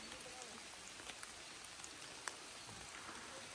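Steady rain falls in a forest in France, a constant soft hiss with occasional louder drip ticks, fairly quiet and even throughout without speech.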